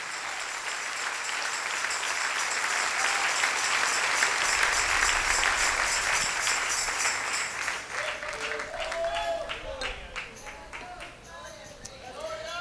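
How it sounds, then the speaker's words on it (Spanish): Church congregation applauding and cheering in praise during a Spanish-language sermon, a dense sustained wash of clapping that fills most of the clip and thins toward the end as a few voices call out over it. "Dale un aplauso al Rey."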